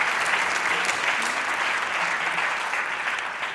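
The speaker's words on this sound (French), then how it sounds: "On peut applaudir très fort" A cinema audience at a Kino cabaret screening in Cachan applauds steadily, with dense clapping that holds through and fades slightly at the end.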